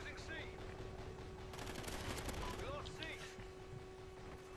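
Rapid bursts of gunfire in the Call of Duty: Ghosts multiplayer game crackle at moderate distance, dense volleys peaking midway over a steady background hum, with a voice talking throughout.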